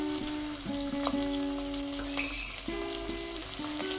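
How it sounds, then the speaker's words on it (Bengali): Small shrimp, about 200 grams, sizzling steadily in hot oil, a close, continuous crackling fry with faint tonal ringing over it and no voices. "এই তেলেই দিয়ে দেব চিংড়ি"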